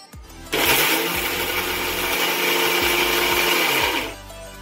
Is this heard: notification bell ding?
no